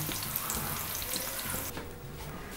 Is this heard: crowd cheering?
no